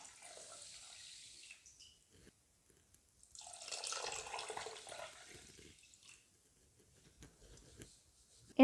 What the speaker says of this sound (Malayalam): ഇനി നമുക്ക് 2 കപ്പ് വെള്ളം ഒഴിച്ചു കൊടുക്കാം